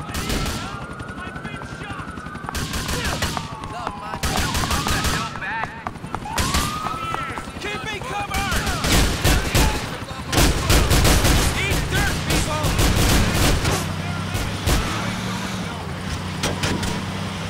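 Gunfire in GTA IV rings out in scattered sharp shots and short bursts, mixed with a rumbling car engine and helicopter-like drone, building into heavier, louder volleys toward the end.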